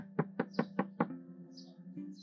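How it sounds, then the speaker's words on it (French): Five quick, evenly spaced knocks land on a door at close range, sharp and resonant, followed by a brief quiet room tone with faint shuffling. "Abel, ouvre la porte."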